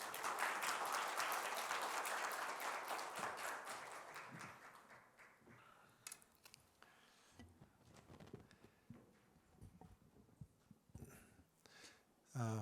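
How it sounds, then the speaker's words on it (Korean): A church congregation at a Friday service breaks into loud, dense applause that gradually thins into scattered claps and taps, with a short burst of noise at the end. "우리 박수로 환영할까요?"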